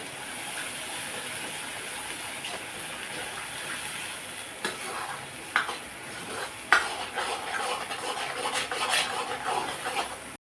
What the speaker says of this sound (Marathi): मसाला घातल्यानंतर एक दोन मिनटं आपल्याला त्याला मस्त परतून घ्यायचं आहे